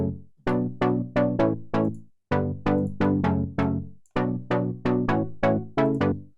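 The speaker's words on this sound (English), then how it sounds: "It just gives the plug sound this nice stereo effect." A house pluck synth in Serum with the hyper dimension stereo effect plays rhythmic phrases of short, bright plucked notes that decay quickly, in three loud bursts separated by brief gaps, with no voice.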